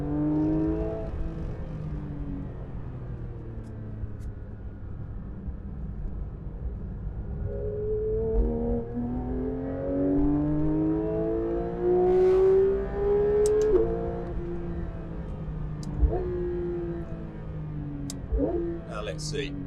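A sports car's engine drones and rises through harmonic sweeps as it is driven hard on a track, with someone talking steadily over it and a few brief tire squeals later.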